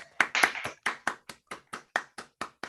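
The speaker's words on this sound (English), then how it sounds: "I will ask everyone to unmute themselves to give a round of applause to Hiranya." Sparse, distinct handclaps from a small online audience applauding a colloquium speaker, about a dozen separate sharp claps in an uneven rhythm, close and moderately quiet.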